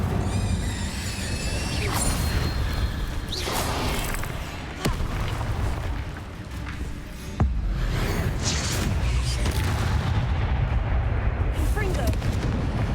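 The Incendio fire spell roars out in Hogwarts Legacy during a fight with spiders, a loud continuous rumbling blast with crashing bursts layered over it, sustained for the whole stretch.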